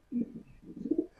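A racing pigeon coos softly nearby in a short run of low, throaty burbling calls, close and fairly quiet, with no voices over it.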